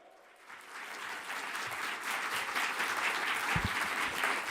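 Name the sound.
applause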